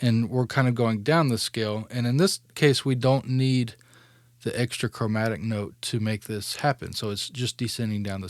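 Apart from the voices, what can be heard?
No everyday noises stand out.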